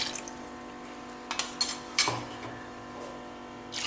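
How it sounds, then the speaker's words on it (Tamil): Water poured into a clay pot for brown rice porridge, heard as a soft running trickle with a few clinking, splashy knocks in the middle, close and fairly quiet. "நல்லா நிறைய தண்ணி விட்டுக்குங்க."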